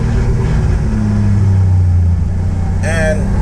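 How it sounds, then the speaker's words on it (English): A Toyota 2JZ engine with a custom exhaust drones loudly from inside the car, a steady low cabin rumble with a brief higher whine near the end. "this is what it's like being inside the car and hearing all the noise in here"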